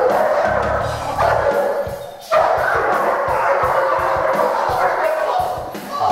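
A police dog in protection training barks and yips against a handler, with steady dense noise, thumps and people nearby throughout.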